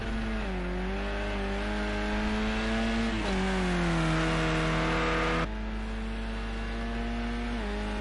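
A touring car circles Oulton Park in a PS4 racing game, its engine droning steadily and climbing in pitch through the gears, with a sharp drop at an upshift and a constant electronic hum underneath.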